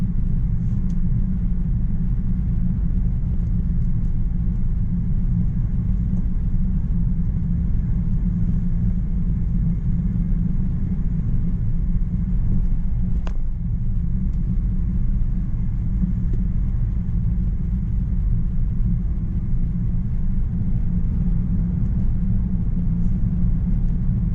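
Steady engine and road rumble from inside a car driving through Guangzhou rush-hour traffic, from Clifford Village toward Liuhua Road, a continuous even drone with no talking.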